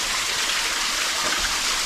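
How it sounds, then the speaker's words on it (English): Loud, steady rushing of a river through a New Zealand valley, a continuous close-up roar of water with no break or pause. "Sorry about how loud the water is."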